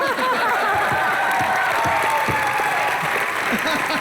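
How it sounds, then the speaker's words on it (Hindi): Loud, dense applause from a studio audience on a Hindi TV comedy show, continuous and even throughout, mixed with a bit of crowd noise and faint chuckling. "जोरदार तालियां"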